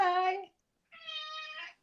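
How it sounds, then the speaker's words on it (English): A really loud, vocal cat gives two drawn-out meows, the first strong and wavering, then a short pause before a second, slightly thinner meow, close by and heard alone. "there is a real cat there"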